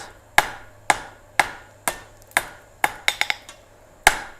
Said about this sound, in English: but I'm going to do it on the horn of the anvil